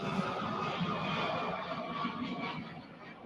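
A low, steady roar of an airplane passing overhead during an outdoor press briefing in Louisville, a broad rumbling wash that slowly fades, faint and distant.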